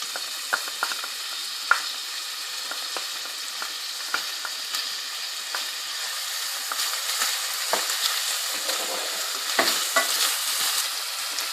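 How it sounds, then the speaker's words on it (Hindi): Onions sizzle and crackle steadily in hot oil, with occasional stirring clicks and scrapes, close up and without talk. "तेल गर्म है, और अब मैं इसमें प्याज डाल के फ्राई करूँगी"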